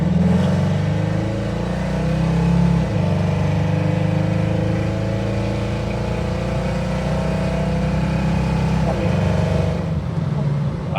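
A Ford Mustang engine pulls hard under full throttle, a loud sustained drone with rising harmonics and a shift near the end, while people talk over it.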